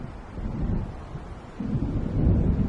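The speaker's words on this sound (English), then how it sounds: "It seems there's a storm coming." Thunder from an approaching storm rolls in the Alan Wake video game, a low, muffled rumble that swells and grows heavier toward the end, with wind-like noise underneath.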